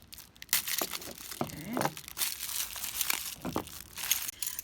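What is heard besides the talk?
cutting open plastic packaging with old scissors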